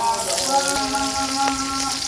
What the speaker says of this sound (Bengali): প্রথমে আমি কড়াইতে তেল দিয়ে দিচ্ছি এর মধ্যে দিয়ে দিচ্ছি কাঁচামরিচ কুচি